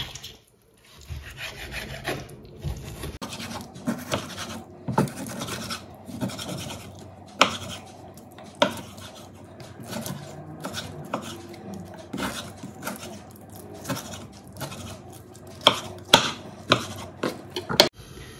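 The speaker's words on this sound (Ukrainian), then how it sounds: "Нарізаємо м'ясо." Meat is being cut with a knife on a board in a home kitchen while pilaf is prepared: quiet, irregular knocks and scraping strokes repeat close by, with sharper taps toward the end.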